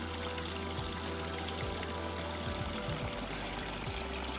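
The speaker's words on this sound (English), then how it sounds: "So if I take my finger, you can see those bubbles coming." Air bubbles drawn through tubing into an aquaponics tank, heard as steady close splashing, pouring water with gurgling and bubbling throughout.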